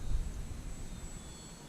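The engine of an ultralight airplane drones steadily in flight on a wet, misty morning, a loud, close, continuous roar with wind rush and no talking.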